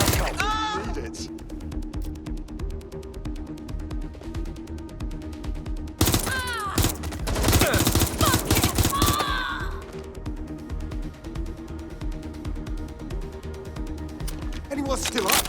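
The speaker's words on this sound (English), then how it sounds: "Suspect shooting!" Shootout in the video game Watch Dogs Legion, with bursts of rapid gunfire in clusters, one heavy volley in the middle, loud over background game sound and shouted voices.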